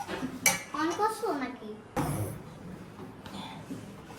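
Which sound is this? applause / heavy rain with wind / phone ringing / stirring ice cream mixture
stirring ice cream mixture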